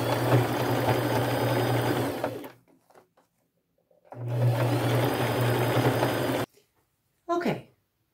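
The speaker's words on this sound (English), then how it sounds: "I'm going to come to the very edge and do another gold zigzag stitch all the way around." A sewing machine stitches a gold zigzag along the edge of an upcycled backpack in two long, steady, humming runs of about two seconds each, close and loud. The runs are separated by quiet pauses, with a short burst at the end.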